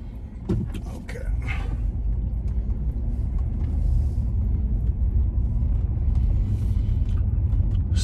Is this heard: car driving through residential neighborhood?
yes